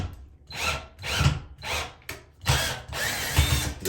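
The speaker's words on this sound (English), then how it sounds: "So drilling pilot holes for installing this lower guide in this trim." A power drill boring pilot holes in aluminum shower-door trim for a lower guide, five short whirring bursts with gaps between them, close up and fairly loud, with no talking.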